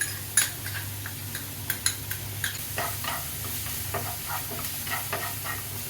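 Green chili, ginger, garlic and curry leaves are sautéed in a pan with a steady sizzle. A spoon scrapes and clinks against the pan at irregular intervals.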